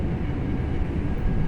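Class 323 electric multiple unit speeding along the Birmingham Cross City line in Train Sim World, a steady low rumble and rolling hum that stays even and fairly loud throughout.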